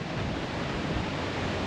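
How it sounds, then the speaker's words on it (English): Strong desert wind roars continuously as a dense, loud rushing noise buffeting close by, without pause and without voices. "Pretty windy."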